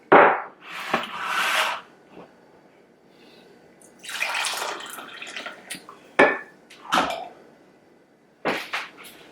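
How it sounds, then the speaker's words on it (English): Liquid splashes and trickles into a cup in a few short bursts, with clinks of crockery between pours, close by and moderately loud. "I'm also going to pour myself some coffee"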